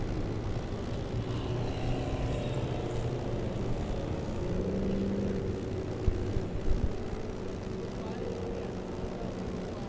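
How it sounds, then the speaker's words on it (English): A diesel race truck engine at The Bullring at Las Vegas Motor Speedway during a Southwest Tour truck main event, a steady, fairly loud engine drone running throughout beneath a commentator's voice. "There's that diesel truck again."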